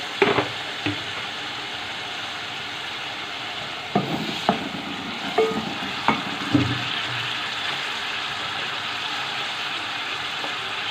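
Spices hit a pan of sizzling gravy for bottle gourd koftas, with a steady frying hiss running throughout and a handful of sharp scrapes and clinks from stirring.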